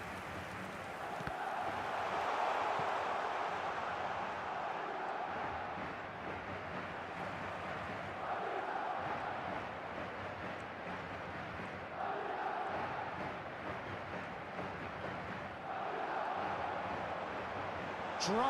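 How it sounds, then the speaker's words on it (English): Stadium crowd cheering in the eFootball mobile soccer video game, a steady roar with repeated swelling surges roughly every few seconds, a commentator's voice running over it throughout. "Certainly gave this crowd something to really cheer about."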